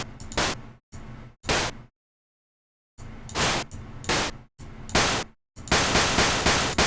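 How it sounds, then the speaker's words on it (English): Short synthesized gunshot effects built from pink noise with a quick decay, firing in clipped bursts: a few separate shots, a pause, then more shots that end in a rapid string like a machine gun, loud and with no talking. "you get a bit of a gun sound there as well"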